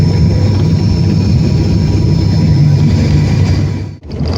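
Loud, steady engine and cabin roar from an airliner landing at the end of a Chennai to Trichy flight, holding constant before briefly dropping away near the end.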